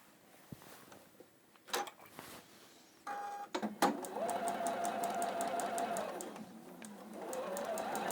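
A small domestic sewing machine stitches a seam, starting after a few clicks and handling sounds, then running in a steady fast mechanical whir with rapid needle ticks for several seconds before slowing.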